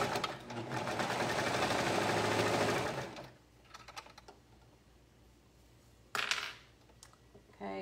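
A sewing machine runs steadily for about three seconds, stitching a stretched dress waistband, then stops; a few faint clicks follow before a short second burst of stitching near the end.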